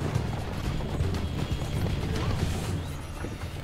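Horse hooves gallop at a steady, continuous pace in the video game Assassin's Creed II, a dense rhythmic clatter that runs throughout.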